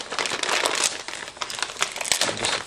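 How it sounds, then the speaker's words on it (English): A taped cardboard package holding three-tier dog stairs is cut open, with continuous close crinkling, scraping and tearing of tape and packaging for a few seconds and no speech. "No, so let's start cutting this open."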